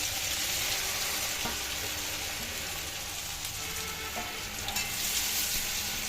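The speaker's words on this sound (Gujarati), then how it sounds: "હવે આપણે આ મુઠિયા કટ કરીને રાખ્યા છે એ અંદર ઉમેરી દઈશું" Pieces of bottle gourd muthiya frying in a tempering of oil with sesame seeds and curry leaves, heard as a loud, continuous close-up sizzle with faint stirring.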